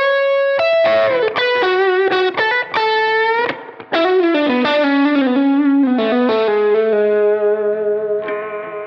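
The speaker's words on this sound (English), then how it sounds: "Now let's put some Tube Screamer and then Blues Breaker on top of that," Electric guitar played through a pedalboard with Tube Screamer and Blues Breaker overdrive pedals stacked on a Fender-style reverb and deep blue delay, giving a loud, sustained, distorted run of notes and chords with echoing tails, played alone.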